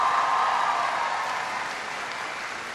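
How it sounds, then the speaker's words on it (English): Audience at a Knox College speech applauding, a steady wash of clapping from a large crowd that slowly fades over a few seconds. "Give Teresa a big round of applause."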